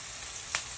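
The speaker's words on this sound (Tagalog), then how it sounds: "ilalagay ko na tong bawang na tinadtad" Chopped garlic drops into hot oil, giving a soft, continuous sizzle with a couple of brief crackling pops, fairly faint and close.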